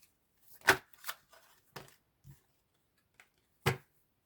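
Tarot cards being shuffled and drawn at a reading, a handful of sharp, close card slaps and flicks spaced irregularly with quiet gaps and no talk.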